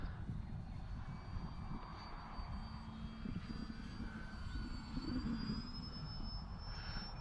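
E-flite Valiant RC trainer-style sport airplane flying in the evening, a faint steady electric motor whine overhead with a slowly shifting pitch over low outdoor background rumble.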